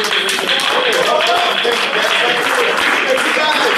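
Applause from an audience at a school bond advocacy gathering for a local official and the region's chancellor, a loud, steady wash of clapping with voices mixed in throughout.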